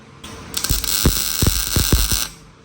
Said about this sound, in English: as you're welding this